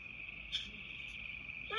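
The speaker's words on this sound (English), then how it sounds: "I'm a red-eyed tree frog." A red-eyed tree frog calls with a steady, high, thin trill that runs continuously at moderate volume, with a few faint chirps over it and no voices.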